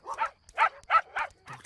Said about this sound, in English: Oh, those horrible barks.